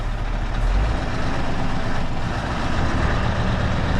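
A truck hauling waste chip runs with raised revs, its heavy diesel engine droning loud and close in a steady low rumble for several seconds.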